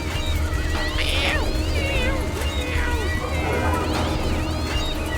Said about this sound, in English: I cannot with these screaming cat noises.